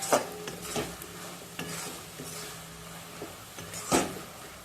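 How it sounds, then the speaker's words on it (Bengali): Reducing raw papaya mixture being stirred continuously in a pan for sweet papaya balls, a quiet low sizzle broken by repeated scraping strokes of a spoon against the pan at irregular intervals. "যখন আমার কমে যাবে তখন অনবরত নেড়ে যেতে হবে তা নাহলে কোনাটা ধরে যাবে"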